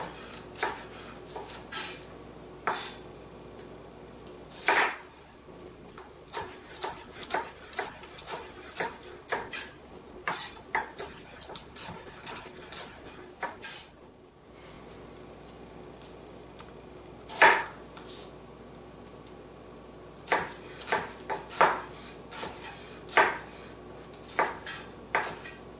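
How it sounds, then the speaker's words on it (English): A knife chops Brussels sprouts on a cutting board in irregular runs of sharp, close taps, with a brief pause midway and a quieter stretch before the chopping resumes. "Okay, for chopping, a lesson in chopping again."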